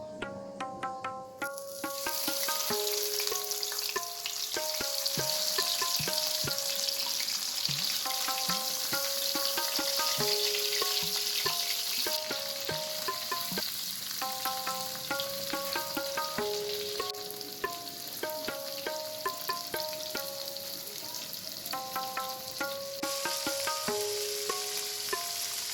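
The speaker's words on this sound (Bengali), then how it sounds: "এবার কড়াইয়ে সরষের তেল দিয়েছি, দিয়ে মাছগুলোকে একটু ভালো করে লাল করে ভেজে নেব।" Marinated tapse fish fry in mustard oil in a wok with a steady, fairly quiet sizzle and occasional stirring clicks, running under a prominent melodic music track throughout.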